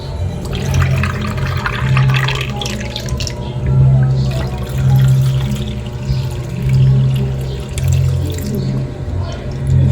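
Soaking water poured out from a container of busaing snails, a continuous splashing, gurgling flow close by.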